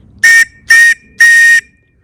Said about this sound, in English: 3 blasts on the whistle, emergency sign, 3 of anything, sign for distress.